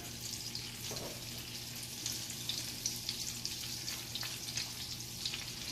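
Meat for German schnitzel sizzles steadily in a hot pan, a soft continuous frying crackle with faint pops, close but quiet and with no talking.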